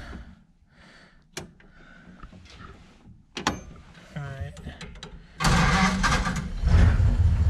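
The new engine in a Sweet Heart Roadster is cranked with a few clicks and mechanical noises, then fires up into a loud, steady running roar that fills the second half, with people talking nearby.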